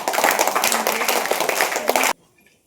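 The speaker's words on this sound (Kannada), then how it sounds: "ಅಮರಾಯ್ ಮಠ್ ಮನೇಲಿ ಅವರಿಗೋಸ್ಕರ ಒಂದು ಒಳ್ಳೆ ಚಪ್ಪಾಳೆ ಹೊಡ್ತೀವಿ ಅವರೆಲ್ಲ." An audience at a children's summer camp gathering in Bidanur claps loudly together for about two seconds, a dense burst of applause that stops abruptly into near silence.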